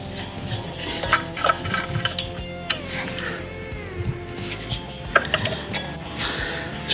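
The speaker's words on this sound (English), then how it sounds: "Screw that down, not too tight because you don't want to crack the plastic" A plastic screw-on vintage Ford wheel cap is turned down onto an aftermarket wheel, giving close, irregular clicks and ratcheting scrapes of plastic threads with small knocks, no talking.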